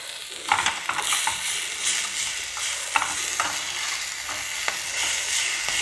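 Onions and curry leaves sauté in a pan for chutney tempering, with a steady sizzle of hot oil under repeated scraping strokes of a stirring spoon, close and fairly loud throughout, with no talking.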